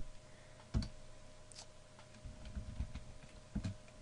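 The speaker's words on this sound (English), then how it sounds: "So now, let's type" Computer keyboard keys tapped while writing code in Notepad, a few sparse, irregular clicks with a short cluster in the middle, fairly quiet over a low background hum.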